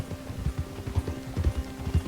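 Horse hooves clip-clopping at a steady walking pace in the video game Red Dead Redemption 2, close and distinct over a low background hum.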